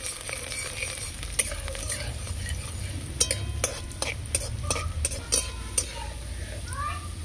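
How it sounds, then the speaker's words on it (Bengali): Oil sizzles steadily as finely chopped garlic fries in a pan, with repeated clinks and scrapes of a spoon stirring against the metal. "রসুন কুচিয়ে রেখেছিলাম, হালকা করে একটু ভেজে নেব"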